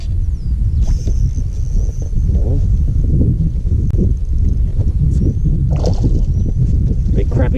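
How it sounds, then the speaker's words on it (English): Wind buffeting a microphone outdoors while crappie fishing on the West Coast, a constant loud low rumble throughout, with a voice talking over it. "This wind is effing up my rhythm though."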